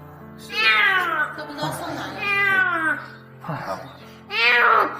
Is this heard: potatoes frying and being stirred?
no